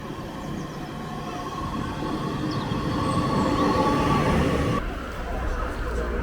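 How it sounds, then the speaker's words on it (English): Train ride into Preston heard from inside the carriage: a loud steady rumble of wheels on rails with faint squealing, and a voice talking over it before the noise drops slightly near the end. "I'm just waiting to go into Preston now on the train."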